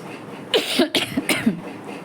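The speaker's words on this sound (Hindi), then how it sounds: "सॉरी, थोड़ी सी खांसी है।" A few short, harsh coughs in quick succession, close up and moderately loud, with no talking.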